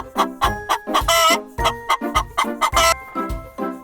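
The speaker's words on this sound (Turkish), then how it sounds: "Tavuk gıt gıt gıdak, gıt gıt gıdak diye ses çıkarır." A chicken clucks in a quick series of loud, close, choppy calls with short pauses, a lively farmyard sound with no talking.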